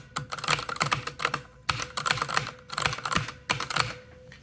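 A Corsair K60 keyboard is typed on at close range, producing bursts of clacky keystrokes with several louder, deeper thumps from the space bar between quieter gaps.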